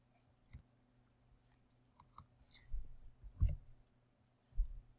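Mouse clicks while editing a web page, a handful of sharp, separate taps spread unevenly over a few seconds over a low background hum.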